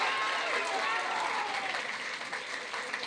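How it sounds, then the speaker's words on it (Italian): An audience at a debate on having and raising a child applauds a question, a sustained crowd clapping that starts full and slowly eases, with voices faintly mixed in beneath. "facciamo un applauso per questa domanda"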